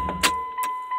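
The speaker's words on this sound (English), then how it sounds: "I'll shut the truck off here, too." The engine of a pickup truck nicknamed Blue Beast is switched off, a low rumble dying away after a click, followed by a steady electronic chime and a few faint mechanical clicks.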